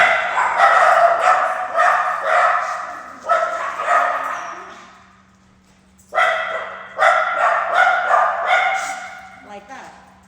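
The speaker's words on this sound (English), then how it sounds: "That is a dog alerting because there's somebody at the door." A dog barks to alert that someone is at the door. Two clusters of sharp, close barks are separated by a quiet pause of a couple of seconds.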